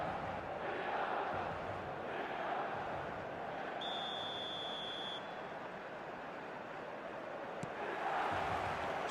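Stadium crowd in the eFootball soccer video game, a dense, continuous roar and murmur of thousands of fans filling the air at a steady level, with a brief whistle-like tone partway through.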